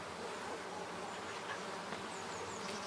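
Honey bees drone in a dense, steady buzz around an open hive during an inspection for disease, with the swarm noise close and constant and no voices heard.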